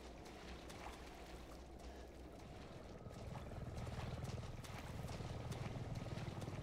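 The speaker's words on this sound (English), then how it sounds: "Hey, Chopper!" Helicopter in a horror video game: a steady, low rotor drone with a rumbling wash that swells noticeably louder halfway through, with no talking.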